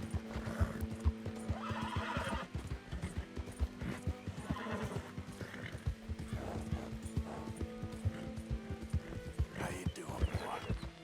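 Horse galloping in Red Dead Redemption 2, with a steady rhythmic clip-clop of hooves throughout and repeated neighs and whinnies over a continuous in-game ambience, loud and close.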